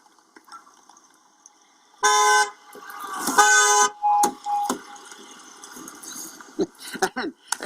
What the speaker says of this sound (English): we're going to do the whole honking the horn, coming from behind and banging the door